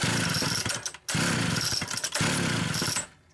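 A Homelite Super XL chainsaw restarts after a carburetor repair and idles with no throttle, a loud, close two-stroke buzz that cuts out briefly twice and then dies away at the end.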